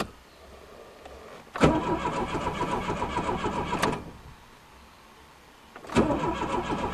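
A turbocharged Dodge Aries is cranked after sitting unused for six years, giving two long bursts of loud, rhythmic starter churning with a quiet pause between them and no catch to a running idle.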